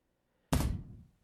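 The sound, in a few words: thud sound effect in visual novel Soul of Sovereignty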